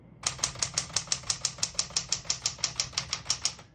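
Keys strike the platen of a 1961-63 Tower Citation 88 portable typewriter in a steady run of about sixteen crisp, evenly spaced clacks, close and clear with no talk.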